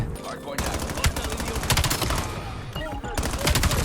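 An M15 assault rifle in Call of Duty: Black Ops 7 multiplayer fires long, rapid automatic bursts, loud and near, with short gaps between strings of shots and some voice in the mix.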